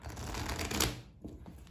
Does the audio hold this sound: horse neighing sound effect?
no